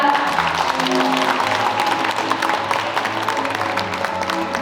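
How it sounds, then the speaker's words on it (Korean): Applause from wedding guests at a ceremony in a wedding hall as the bride's mother lights the ceremonial candles, dense, steady clapping filling the room over a low musical hum. "큰 박수 부탁드립니다."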